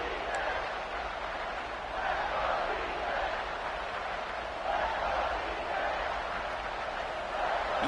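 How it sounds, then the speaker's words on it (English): A football stadium crowd at a red-zone defensive stand rises into a broad, sustained cheering roar that swells and holds throughout, with commentary talk running over it. "And the crowd coming to life here,"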